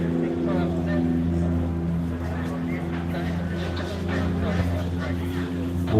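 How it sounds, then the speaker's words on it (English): A Can-Am three-cylinder race engine drones loud and steady throughout a desert race, its tuned note sounding slightly off, with a commentator talking over it. "One of the tunes you can put into these Can-Ams now can make them sound a little bit off, but that's just the way a 3-cylinder is."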